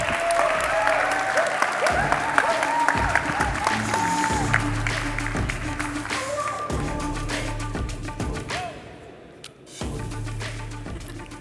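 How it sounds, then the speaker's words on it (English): An audience at a tech conference talk gives a sustained round of applause for the speaker, dense clapping throughout with some whoops and crowd murmur, briefly dipping near the end before picking back up. "Everybody please give a warm round of applause for Tejas Kumar."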